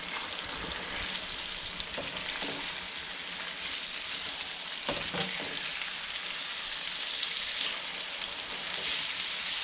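Speckled trout fillets pan-sauteing, giving a steady, close sizzle and crackle of frying that continues throughout, with a few soft clinks and stirring sounds.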